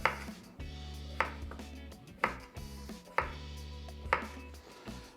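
A knife trimming the edges of raw potatoes into cylinders for fondant potatoes, six sharp cutting strokes against a board at a steady rhythm, each followed by a low scraping drag, close and clear with no talk.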